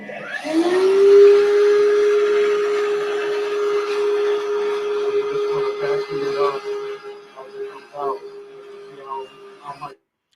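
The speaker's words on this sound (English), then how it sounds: "I'm using my vacuum now to mainly to be able to help out that drain because there's going to be so much water" A vacuum cleaner pulls water away from a drain. Its loud, steady motor whine starts after about a second and holds throughout, with intermittent gurgling and sputtering noises over the top near the end.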